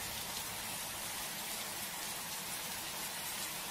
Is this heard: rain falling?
yes